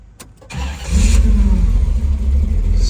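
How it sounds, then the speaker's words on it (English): A 1977 Pontiac Trans Am engine starting: a brief starter crank, then the engine catches and roars up loudly before settling into a deep, rumbling idle, with no talking. "Let's go ahead and start the car."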